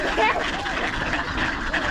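A duck quacks in short nasal bursts, close and fairly loud, with a person talking over it.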